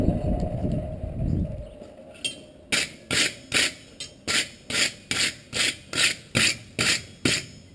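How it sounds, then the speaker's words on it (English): Wire brush scrubbing a heated forged steel fireplace rake, about a dozen evenly spaced harsh rasping strokes, close and loud, following a low roaring rush of heat at the start. "heat that whole thing up, wire brush it so that it all looks the same"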